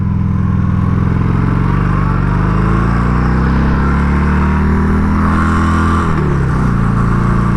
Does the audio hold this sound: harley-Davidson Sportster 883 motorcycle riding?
yes